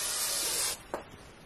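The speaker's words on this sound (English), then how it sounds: "So I'm going to take a quick spray of my workable fixative" Blair Very Low Odor Workable Fixative sprayed from an aerosol can over a pastel painting: one short, loud, close hiss that cuts off abruptly, followed by a faint soft tap.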